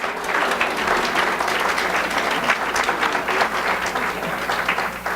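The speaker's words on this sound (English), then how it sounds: "You all deserve a big round of applause." Audience applause for graduating students at a university student recognition reception, a sustained dense patter of many hands clapping at a steady level throughout, with no voices on top.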